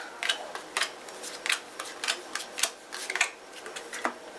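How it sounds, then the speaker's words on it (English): Playing cards for the Elf Dance card game being dealt onto a table, a quiet series of soft, quick flicks and slaps at an uneven rhythm, close by and with no talking. "Next I'm going to deal our cards."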